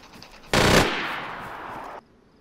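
Gunfire in the survival game DayZ on PS4: one sharp, loud burst with a short ringing tail that dies away abruptly after about a second and a half.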